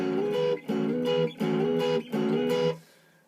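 An electric guitar playing a Memphis-style solo lick up to tempo, four repeated sustained chord stabs in a steady rhythm with short gaps, ending in a fading ring.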